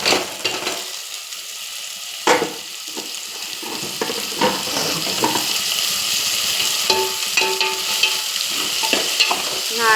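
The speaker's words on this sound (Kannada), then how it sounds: "ನೋಡಿ ವೆಜಿಟೇಬಲ್ಸ್ ಆ್ಯಡ್ ಮಾಡ್ತಾಯಿದ್ದೀನಿ" Vegetables tossed into a hot sizzling pan for noodles, with a steady frying hiss broken by repeated scraping, clattering stirs of a utensil against the pan, up close with no talk.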